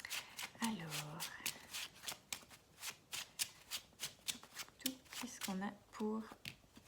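Oracle cards riffled and shuffled by hand in a steady run of quick papery flicks, close and fairly soft, with someone speaking French briefly at the start and again near the end.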